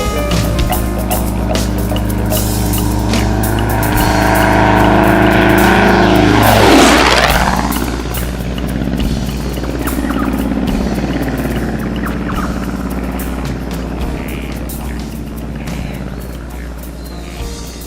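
A light aircraft's propeller engine drones loudly and continuously under throttle in the Outback, its pitch sweeping as it passes close by, then settling to a steady hum.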